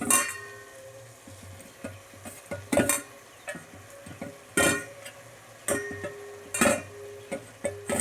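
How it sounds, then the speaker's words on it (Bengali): Tender jute leaves with spices being sautéed in a pan over raised heat: a quiet sizzle broken by repeated spatula scrapes and knocks against the pan at an uneven pace, close by, no voices. "এবার পাট শাকটা দিয়ে মশলার সাথে ভালোভাবে কষিয়ে নিতে হবে"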